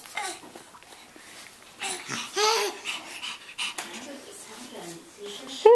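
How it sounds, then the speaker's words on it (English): A puppy pants and whimpers close by in short, breathy bursts, mixed with a child's babbling and laughter and adults talking nearby. "Where's the puppy?"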